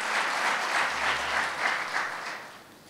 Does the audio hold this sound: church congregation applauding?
yes